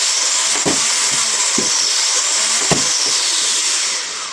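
A Mech RC blaster revving steadily with a loud, even motor whir, sharp clicks punctuating it as rounds fire several times before the rev begins to fade.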